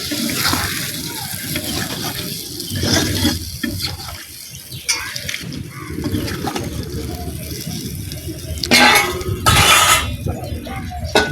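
Water splashes into a cooking pot over salt, turmeric and chili powder for a village hilsa fish dish, with pouring and clinking of utensils, and a louder gush near the end alongside faint talk.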